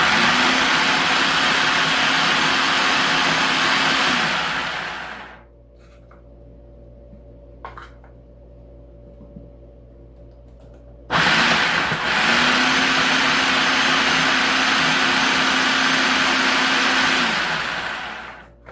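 Food processor whirs loudly while cutting flaky pie crust dough: a steady, full-powered drone for several seconds, a quiet pause, then a second equally loud run that winds down at the end.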